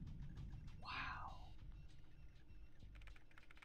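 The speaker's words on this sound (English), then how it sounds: "Hey, it's a ghost typing" Rapid keyboard typing clicks from an unseen typist at an office desk in the stealth video game Splinter Cell, faint and steady, with a brief tonal game sound partway through.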